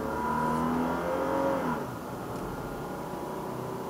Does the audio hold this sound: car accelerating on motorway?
yes